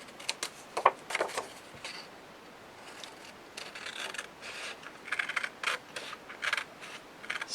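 Chipboard pieces for a dog house album holder are cut out by hand, making soft, irregular scraping and snipping rasps close up, in short bursts with brief pauses and no talking.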